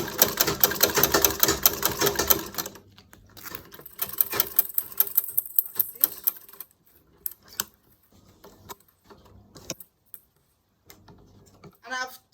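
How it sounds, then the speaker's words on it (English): A sewing machine stitches a leather bag flap onto the main panel of a bag made with Ankara and aso-oke fabric. A loud, steady run of rapid stitching comes first, then shorter, fainter bursts separated by pauses. "So I'm going to sew the flap to the this main panel."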